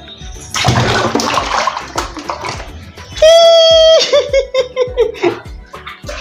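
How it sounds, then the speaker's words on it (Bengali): A baby is being bathed at home, with water splashing and sloshing in bursts, a brief loud running-water rush midway, and giggles and small vocal sounds throughout. "কে স্নান করে ছুপুক করে?"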